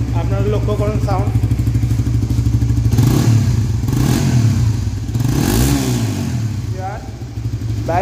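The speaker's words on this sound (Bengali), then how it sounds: "আর বাইকটা কিন্তু স্টার্ট দেওয়া আছে। এখন বাইকের একটু আপনাদেরকে সাউন্ডটা শোনাবো" A used Suzuki GSX-R motorcycle idles loudly up close with a steady engine drone, swelling in a couple of revs midway, while someone talks over it.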